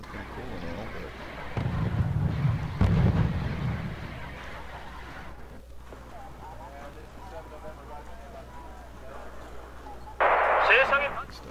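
Artillery fire in the war strategy game Wargame Red Dragon, set in a second Korean War battle, with heavy low booms around two to four seconds and a sharper burst near the end, under a game soundscape and a talking player.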